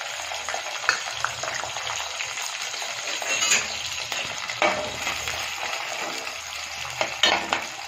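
Onion and green chili frying in oil in a pan, with a continuous close sizzle and occasional clinks and scrapes of a spoon stirring against the metal.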